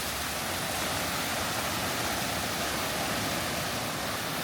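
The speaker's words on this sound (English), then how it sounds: "So there's the waterfall coming down into these pools" A waterfall crashes into pools below, a constant broadband roar that fills the space evenly and loudly without any pauses.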